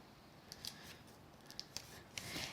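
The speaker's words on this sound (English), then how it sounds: "Bring in some tape" Tape is pulled and torn for card crafting, faint scratchy rips and peels in quick short bursts with a slightly longer pull at the end, nearby and quiet with no talking.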